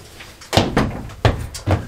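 A glass shower door in the washroom of a 2020 Keystone Montana 3854BR RV is swung and handled, giving several loud close knocks and clunks in quick succession.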